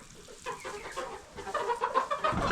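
Hens cluck and murmur among themselves in a coop, a busy overlapping chatter that grows louder and more crowded toward the end, close by and without human voices.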